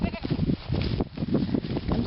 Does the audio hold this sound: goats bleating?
yes